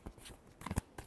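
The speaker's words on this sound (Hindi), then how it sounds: "Last shuffle." Playing cards being shuffled during a tarot reading, a brief close riffle of soft flicking and snapping card sounds, fairly quiet.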